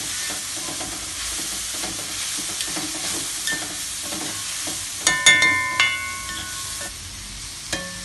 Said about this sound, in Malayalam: തേങ്ങ ഇത് നന്നായിട്ട് ഇളക്കിയിട്ട് അടച്ചു വെക്കണം.